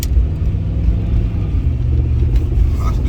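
Low steady engine rumble from inside a 1987 Pontiac Trans Am being driven, a constant loud drone with no clear revving.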